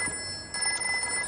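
A telephone rings in a Hindi film home scene, a short electronic ring with steady tones lasting just over a second, with no talk over it.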